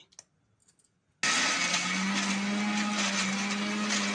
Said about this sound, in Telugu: మిక్సీ పట్టుకుందామండి చట్నీ